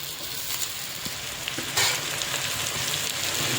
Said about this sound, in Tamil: சேர்த்துட்டு அதுக்கப்புறம் இதையும் நல்லா போட்டு நல்லா வதக்கி எடுத்துக்கணும்